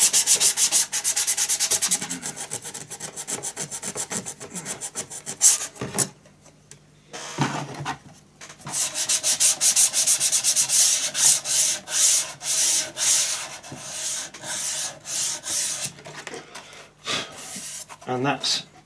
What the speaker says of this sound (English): A bit of turn, a little bit of sandpaper.